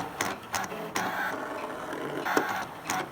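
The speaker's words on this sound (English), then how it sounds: "ScanNCut is now cutting out my ratfish." A ScanNCut machine cuts a fabric ratfish shape, giving a faint, steady whirring hum with soft intermittent clicks and brief scraping passes of the blade.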